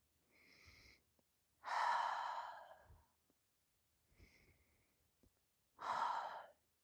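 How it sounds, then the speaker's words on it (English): Slow, audible breaths during a guided meditation alternate in and out: two soft inhales each followed by a longer, fuller exhale, close and quiet with silence between. "Breathing out, bringing yourself back into your body."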